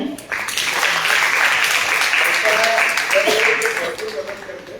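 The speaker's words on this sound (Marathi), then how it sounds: "टाळ्या." Audience applause for a guest being invited onto the stage at a youth stage programme, a dense, steady wash of clapping lasting the whole stretch, with a voice briefly audible over it toward the end.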